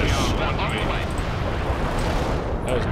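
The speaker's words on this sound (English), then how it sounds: "That was an explosion and a half." A loud, sustained blast and roar of an explosion in the game World in Conflict: Soviet Assault, filling the whole clip, dense and continuous with crackling debris.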